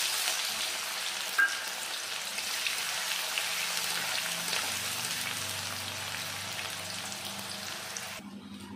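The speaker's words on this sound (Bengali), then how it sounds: "আমি 2 মিনিট মতো পেঁয়াজটা ভেজে নিয়েছি" Chopped onions frying in a pan with cardamom and cloves, a steady, fine sizzle with faint crackles running throughout and no talk, quieter and softer near the end.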